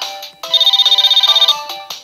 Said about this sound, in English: Oh, a phone call.